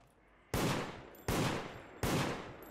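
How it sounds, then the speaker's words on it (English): Gunfire in the video game Deceit: three loud, close bursts of shooting about three-quarters of a second apart. Each one hits hard and trails off into a ringing decay, with no voices. "I'm getting shot at."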